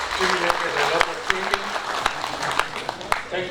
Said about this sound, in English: I have a big round of applause for the presenter